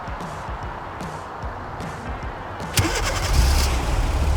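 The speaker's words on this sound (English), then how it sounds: "And here you go, the car started." A Hyundai Sonata from 2011–2014 is fired up by a remote starter: a few soft clicks, then a sharp crank and the engine catching, settling into a louder steady idle.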